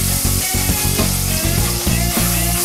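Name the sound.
searing fish in butter in a pan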